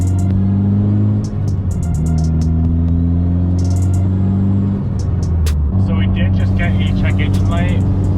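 A Mitsubishi Evo 8 cruises on the highway, its steady low engine drone loud and continuous, shifting pitch slightly as gears change, with a brief whine and road noise near the end.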